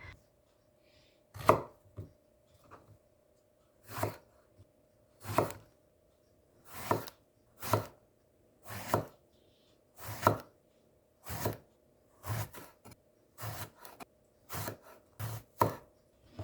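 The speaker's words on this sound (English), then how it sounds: "Have one piece of eggplant and cut." A knife cutting eggplant on a board for a vegetable stir fry: about fifteen crisp, separate chops in a loose, fairly regular rhythm, close but quiet, with near silence between strokes.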